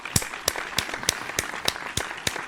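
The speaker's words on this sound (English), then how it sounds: "Look, round of applause." Hands clap at a steady, even beat of about three claps a second, sharp and close, like a short round of applause during a casual online watch party.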